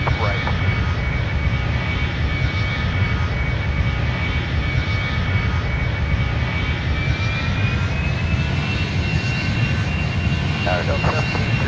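Jet engines of an Icelandair Boeing 757-200 roar steadily and loudly through a takeoff from Rome, a dense continuous rumble with a rising whine, heard close from the cabin.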